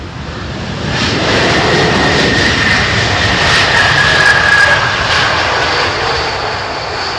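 An Airbus A220 with Pratt & Whitney engines lands at London Heathrow, its loud engine roar swelling into a sustained rush of thrust reverser, heard from a distance.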